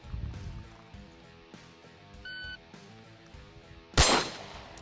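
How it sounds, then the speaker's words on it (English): A Smith & Wesson M&P C.O.R.E. pistol with a red dot sight fired in a one-shot group: quiet, low background, then a single loud, close, sharp gunshot near the end with a short ringing decay. "do one-shot groups and just kind of see how it feels to shoot this gun"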